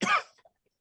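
One sharp, close cough bursts out and quickly trails off into silence.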